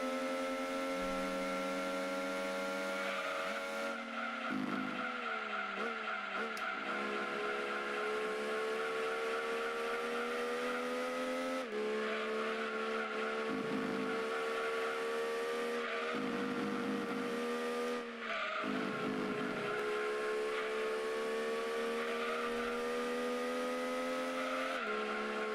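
A Mazda MX-5 Miata races in Gran Turismo 2, its engine whining steadily and rising in pitch, dropping sharply at each gear change and repeating the climb through the lap, loud and unbroken with no talking.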